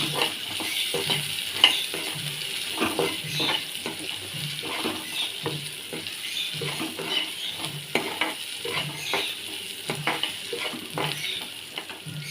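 Chopped vegetables for Maggi noodles sizzle steadily in a pan while a utensil scrapes and stirs them in a regular rhythm, close and moderately loud, with no voices.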